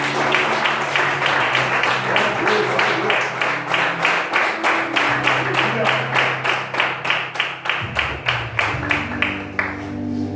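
A church congregation claps in unison in a steady, driving rhythm for over ten seconds, loud and close, with voices and a sustained musical tone under the beat.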